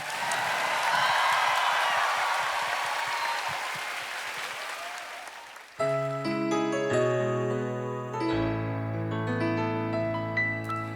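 A studio audience at a KBS late-night music show applauds loudly for several seconds, the clapping fading as piano and accompaniment for a musical number begin.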